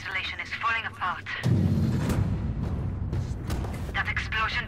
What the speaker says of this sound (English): At least one of the generators exploded.